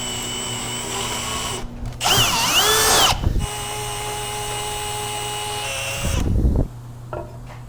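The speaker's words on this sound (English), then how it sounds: "Now we are going to drill a hole straight through." A power drill bores a hole straight through a 2x4 during an E350 box truck camper bed build, with two loud, close whirring bursts of about a second each separated by a quieter hum, and the motor winding down after each pass.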